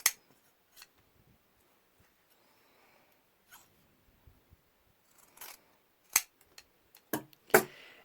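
Scissors snip off excess fabric from medical scrubs with a scattering of quiet, close cuts, faint at first and then a few sharper clips near the end.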